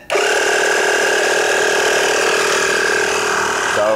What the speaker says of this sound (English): So, that little compressor gets a little bit noisy.